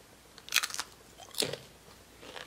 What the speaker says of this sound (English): Who said turkey bacon don't got no crunch?